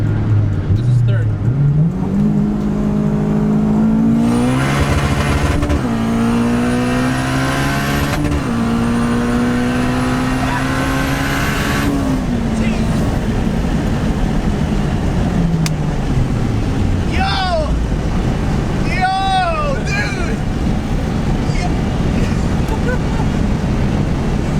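A 1996 Honda Civic hatchback with a turbocharged K20 engine making about 500 wheel horsepower pulls hard through third gear, the engine note climbing loudly in long rising sweeps with turbo whistle, then easing off as a voice cuts in near the end.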